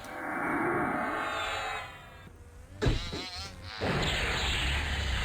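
Wasps buzz in EverQuest: a steady insect drone holds for a couple of seconds, then gives way to shifting game sounds and a rising whoosh before a dense hum returns, with no voices.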